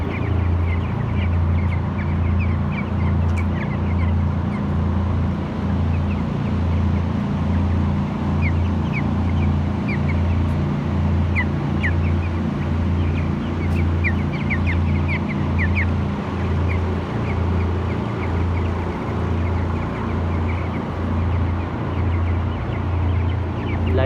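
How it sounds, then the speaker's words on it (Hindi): Dense flock of chicks chirping steadily throughout a poultry farm shed with the lights off, a continuous near and far cheeping bed over a low steady hum of shed equipment, with no talking. "पूरा शेड फिलहाल तो चूजा का माहौल दिखाना है"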